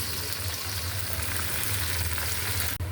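Green chilies, carrot and onion fry in hot oil with a steady, dense sizzle that holds for the whole stretch, broken by one brief dip near the end; no voices.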